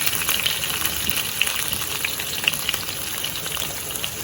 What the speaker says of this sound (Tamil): இப்போ பச்சை மிளகாய் வெங்காயத்தை போடுவோம்